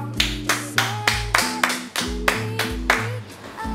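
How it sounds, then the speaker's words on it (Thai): On a Thai cooking show, a studio audience welcomes a guest with sharp, evenly spaced rhythmic claps, about two or three per second, over a bright tonal backing with no one speaking. "ขอเสียงปรบมือต้อนรับกับคุณแบงค์โอมานคร"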